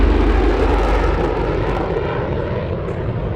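An F-35 Lightning II fighter jet flying, a loud, steady roaring engine rush filling the whole clip and easing off slightly toward the end.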